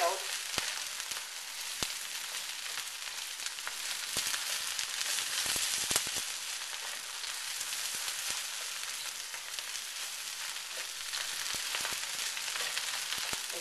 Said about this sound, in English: Mix the rice, egg, and the spring onions